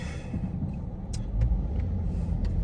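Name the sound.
Coyote 5.0 V8 car engine running at a car meet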